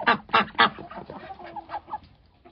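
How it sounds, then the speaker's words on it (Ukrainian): Mulard ducks quacking nearby in a small backyard flock, a burst of three loud calls followed by softer, chattering quacks that fade out. "Ну, така вона балакуча, та качка."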